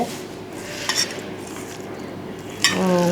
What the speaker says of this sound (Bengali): আর ঝমঝম আওয়াজ হচ্ছে শব্দ হচ্ছে খুবই ভালো শোনা যাচ্ছে মানে পেঁয়াজ রসুন কাঁচামরিচ লবণ ডোলে